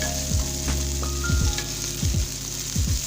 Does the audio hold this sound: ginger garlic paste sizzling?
yes